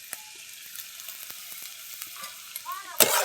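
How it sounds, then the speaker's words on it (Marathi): Salted bitter gourd pieces are stir-fried in a pan as a dry vegetable dish, with a low sizzle and a run of light spatula clicks. A loud burst of frying noise comes at the end. "आता परत हे चांगलं परतू घ्यायचं."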